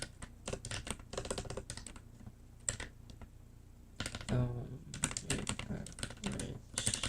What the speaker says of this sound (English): I'm gonna use like the more cramped keyboard, but I love it. It's not loud